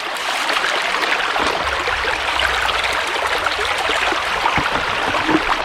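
River water carrying gravel rushes steadily through a placer gold sluice in an Irish river, a loud, close, continuous splashing flow with occasional knocks of stones.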